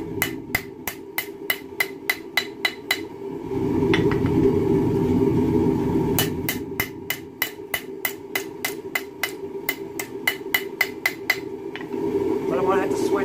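A rebar knife blade is hammered straight: loud, sharp metallic strikes in quick regular runs, then a pause with steady background rumble, then another long run of evenly spaced blows.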